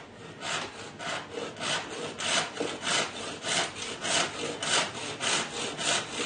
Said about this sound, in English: I thought I'd saw it along here.